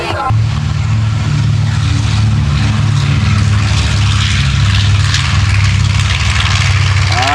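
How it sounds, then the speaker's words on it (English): A B-25 Mitchell bomber flies past at an airshow, its twin piston engines droning loudly and continuously with a deep throbbing propeller hum and a rough, close roar filling the air. "Yes, ladies and gentlemen, the B-25 Mitchell bomber."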